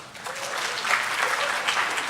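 A crowd of country music fans at a care experience champions meeting breaks into a dense, steady round of applause, sustained and fairly close for about two seconds with no voices standing out.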